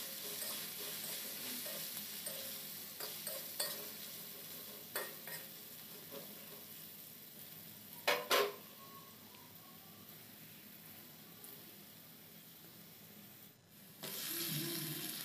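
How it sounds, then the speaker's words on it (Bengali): Potatoes fry with turmeric powder in a pan, a quiet steady sizzle broken by occasional scraping stirs and a couple of louder clinks, faint and close with no talk. "সামান্য পরিমাণে হলুদ গুঁড়ো দিয়ে দেব। দু থেকে 3 মিনিট আলুটা ভেজে নেব।"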